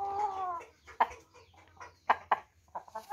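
A hen moulting its feathers clucks in a few sharp, close bursts over a low background hum, with a longer drawn-out call at the start.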